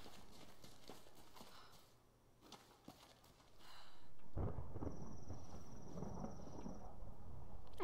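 Thunder in the Tomb Raider video game, set at a mountain temple: after a few quiet, scattered knocks, a heavy rumbling roll swells in and keeps rolling loudly to the end.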